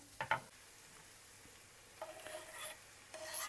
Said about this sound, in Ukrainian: цибуля у нас трохи протушкувалася, я її не дуже сильно зажарюю